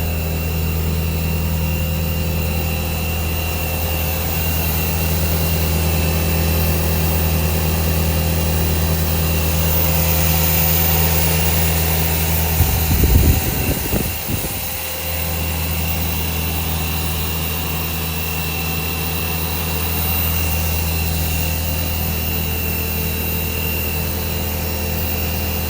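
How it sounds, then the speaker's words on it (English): The air heating machine on a polypropylene melt blown filter cartridge production line gives a loud, steady industrial hum and drone with a brief rumbling jolt midway, constant and close throughout, with no voices. "Air heating machine."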